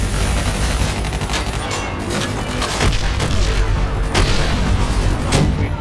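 An armored personnel carrier is destroyed by a missile in Call of Duty Black Ops 3. Loud, continuous battle noise of booms, crashes and rattling gunfire fills the whole stretch.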